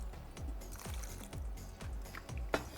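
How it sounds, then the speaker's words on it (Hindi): Water poured into a blender jar already holding onion, a steady liquid splash with a few gurgling, dripping pulses, close up and moderately loud, with no talking. "इसमें हम शामिल करते हैं पानी"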